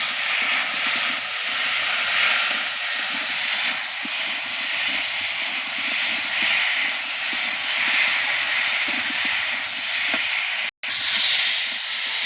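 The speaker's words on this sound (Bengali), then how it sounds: "ওল আর আলুটা মশলা টলা দিয়ে কষা কষা হয়ে গেছে" Elephant foot yam and potato with spices sizzle steadily in a pan, a continuous close hiss with a brief dropout near the end.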